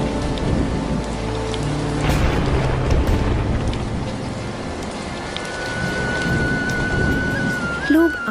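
Steady rain pours over a village, with low rumbles of thunder rolling beneath the constant hiss; brief bursts swell and fade throughout, and no voices are heard.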